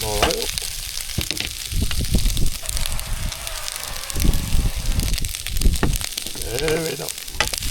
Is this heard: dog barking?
no